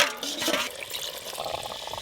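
Water pours into a bowl of spice-coated remains while cooking handi chicken on a clay stove, a steady close splashing and trickling rush lasting about two seconds, with no talk.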